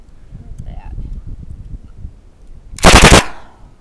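A KP44 gun fires a single sharp, loud shot outdoors. Quieter speech and handling noise come before it, and a short ringing tail follows.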